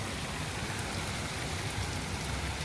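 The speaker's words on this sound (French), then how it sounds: "Il mouille!" Steady rain falls on plants and ground outdoors, a dense, even hiss with soft patters, nearby and moderately faint, with no voices.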